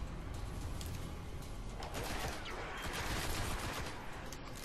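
Sustained rapid gunfire from the player's weapon in the video game Destiny, Earth prologue mission. The shots blur into a dense, loud, continuous barrage with no talking.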